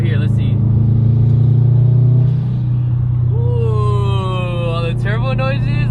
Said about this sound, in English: The turbo noises, okay.